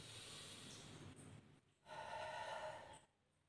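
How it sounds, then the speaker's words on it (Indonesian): Slow, deliberate breaths during a calming exercise, with a long exhale followed by a stronger, hissy breath after a brief pause, close and alone with no talking. "Mau tarik nafasnya, mau buang nafasnya cuman pelan-pelan doang"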